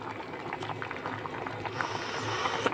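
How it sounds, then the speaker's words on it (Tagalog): A pot of sinaing na isda with tamban fish and kamyas bubbles at a steady boil, close and continuous with a dense liquid gurgle that swells slightly toward the end. "Kumukulo na po."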